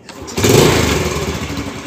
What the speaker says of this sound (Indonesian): kita nyalain mesinnya, kita nyalain ya mesinnya